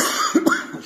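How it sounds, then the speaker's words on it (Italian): A single short cough in an empty, run-down villa that once housed the sugar factory directors, with two quick bursts close by and no speech. "Scusatemi la tosse"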